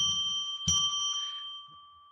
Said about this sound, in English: I'm going to ring a bell 3 times now to declare sacred space